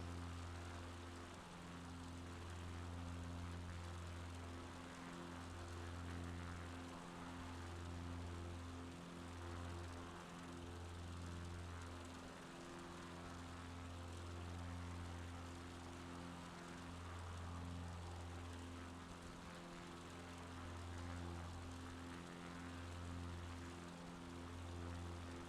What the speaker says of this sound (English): That's so quiet, that aircraft. It should be so much louder.